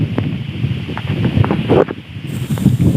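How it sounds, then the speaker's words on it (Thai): Strong wind gusting ahead of a rainstorm in the Thai countryside, buffeting the microphone with loud rushing bursts and rustling foliage, rising and falling over a few seconds with no talking. "ตอนนี้ฝนจะตกนะทุกคน ลมพ่นแรงเลยน่ากลัวมากเลย"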